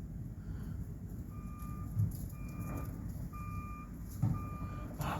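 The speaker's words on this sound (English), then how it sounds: "The garbage truck beeping sound is working." A garbage truck's reversing alarm repeats steady, evenly spaced beeps at a moderate distance over a low engine rumble outdoors, with a couple of brief thumps, and no one speaks.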